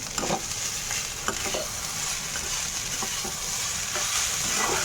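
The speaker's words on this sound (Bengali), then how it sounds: "ভাতটা ভাজা হয়ে গেছে" Cooked rice fries in a pan with a steady, close sizzle and occasional scraping stirs of a spoon, heard alone without talk.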